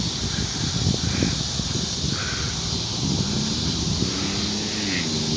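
Gusty storm winds roar steadily during a derecho in Oklahoma, with 70 mph gusts and very heavy rain, a continuous broadband rush of wind buffeting the microphone, with faint crow-like calls in the background.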